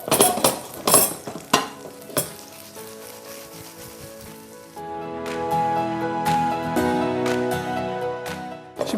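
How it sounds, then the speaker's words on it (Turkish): Steady sizzling of pastry frying in hot oil in a pan, with a few clinks and stirring sounds early on, then a louder, continuous crackle. "Şimdi bir süre daha kızartalım."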